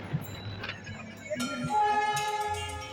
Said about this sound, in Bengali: তারপরে চোখে পড়ল একটা টয় ট্রেন আসছে